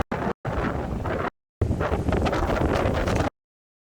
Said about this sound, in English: It's crazy windy today.